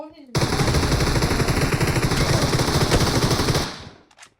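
Sustained automatic gunfire in PUBG Mobile, a loud, dense burst of rapid shots lasting about three seconds before cutting off.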